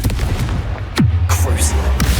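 Confringo fire blast spell in Hogwarts Legacy, a sharp loud blast that drops into a deep rumbling tail, followed by further bursts and game effects.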